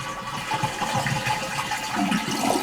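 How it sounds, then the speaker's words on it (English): A toilet flushes close by, a steady rushing gush of water that swirls and drains without pause, with the tank beginning to refill toward the end. "Now, when I flush the toilet,"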